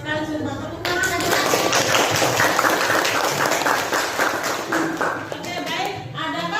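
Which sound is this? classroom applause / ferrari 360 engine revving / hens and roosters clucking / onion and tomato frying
classroom applause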